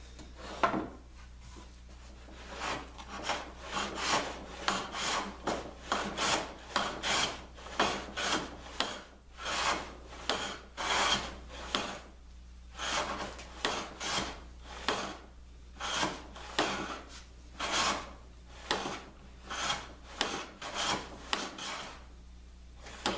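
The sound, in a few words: hand tool shaving wood off a long board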